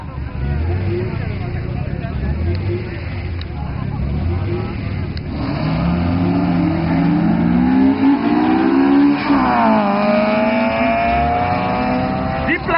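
Honda CRX and other race cars running side by side, their loud engines revving and rising in pitch as they accelerate, with a commentator talking throughout.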